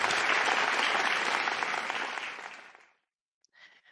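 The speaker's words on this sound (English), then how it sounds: "hey, Jake, we've got some applause for you right now" Applause for Jake: a dense burst of crowd clapping that fades away over a few seconds into silence, followed by a brief faint trailing sound.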